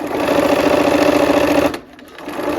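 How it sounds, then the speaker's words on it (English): A sewing machine stitches a pinned corner down over lace, a steady loud mechanical whirr running close and alone before stopping abruptly, then briefly starting again. "we're gonna go ahead and sew this last corner down"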